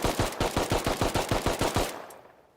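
An M29 rifle fired in rapid semi-automatic succession in the Rust video game, roughly a dozen evenly spaced, loud shots in a quick steady rhythm before a short fading tail.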